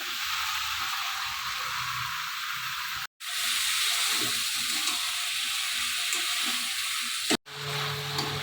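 Steady loud sizzling of potatoes frying in hot oil, with occasional soft stirring scrapes and two brief dropouts.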